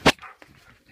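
A dog in the video game Titanfall gives one sharp, loud bark at the start, followed by faint, softer rustling noises.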